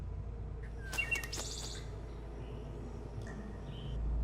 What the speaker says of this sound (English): Oh, cool, birds.